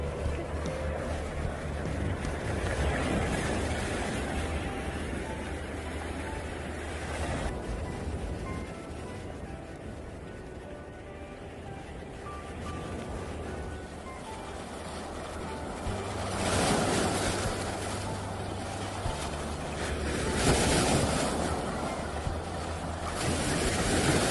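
Ocean surf at Jumunjin beach on Korea's east coast rolls in continuously, with waves swelling louder in several surges, mixed with wind buffeting the microphone.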